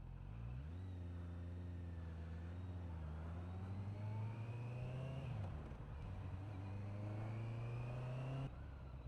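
Small beginner motorcycle with its stock exhaust, ridden at night; a thin, buzzy engine note rises steadily with throttle, dips briefly at a gear change, then climbs again before cutting off near the end.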